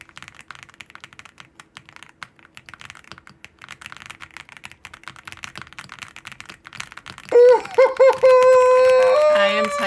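Fast typing on a computer keyboard makes a dense, rapid clatter of close keystrokes for about seven seconds, then a voice starts speaking loudly over the last of it.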